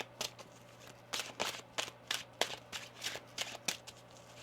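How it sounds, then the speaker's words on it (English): A deck of tarot cards is shuffled close by, a quick series of about a dozen crisp riffling bursts at a brisk, slightly irregular rhythm over a faint low hum, with no talking. "One more shuffle here."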